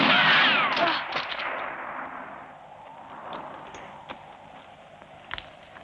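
A gunshot in a 1972 western film rings out loud at the start, then rolls away in a long, echoing tail that fades over several seconds, with a few faint clicks after it and no voices.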